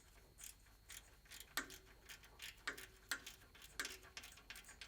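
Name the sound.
ratchet with 11 millimeter socket tightening a bumper bracket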